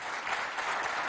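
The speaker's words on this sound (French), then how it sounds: "On les applaudit bien fort, s'il vous plaît." Steady applause from an audience at a school quiz contest between IPEP 2 and IPEP 3 in Moundou, Chad, a brief, dense burst of clapping heard alone.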